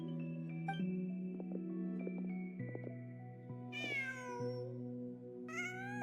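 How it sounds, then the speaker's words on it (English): A cat meows in the video game Genshin Impact: two rising, tonal meows near the end of the clip, heard over a sustained musical score with plucked notes and no talk. "Just a cat."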